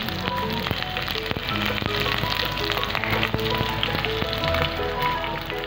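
Mixed vegetables and onion stir-frying in a pan give a steady, rain-like crackling sizzle with frequent small pops and occasional utensil taps, close and fairly loud throughout.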